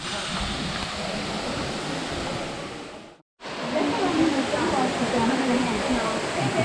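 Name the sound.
water at a cenote near Chichen Itza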